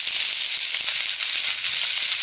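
Sliced onions sautéing in a hot pan with mustard seeds, fennel seeds and curry leaves, giving a steady, close, unbroken sizzle and hiss with no talking.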